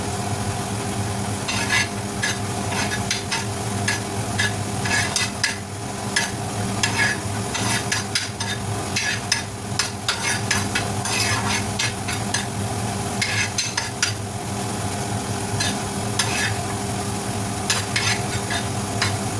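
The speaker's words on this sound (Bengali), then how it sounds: "এই কাসুরি মেথিটা খানিকটা দিয়ে এটা একটু হালকা করে রোস্ট করে নিতে হবে" Kasuri methi lightly roasting in a pan for dhaba-style dal fry, a dense continuous sizzle with rapid, repeated spatula scrapes over a steady low hum of a gas flame, close and without talk.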